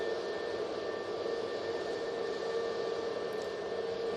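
An airliner departing Manchester Airport, a steady broad roar of jet engines with a constant tonal whine, holding even and fairly loud throughout with no voices.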